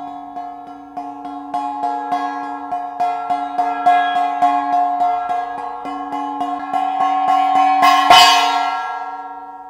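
A 22 cm mini gong is struck in a quick, steady run of soft strikes that build into a sustained shimmering ring. One louder crash near the end decays slowly. No voices.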